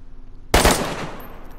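A sudden, loud burst of gunfire in the video game DayZ on PS4 strikes after a short quiet lead-in. Its sharp crack is followed by a decaying echo tail.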